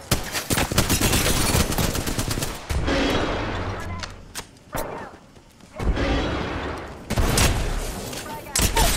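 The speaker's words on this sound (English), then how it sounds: "That's a loud ass gun" Loud, booming shots from the Kraber sniper rifle in Apex Legends, heavy cracks with ringing tails spaced through the stretch, close and dominant with game noise between them.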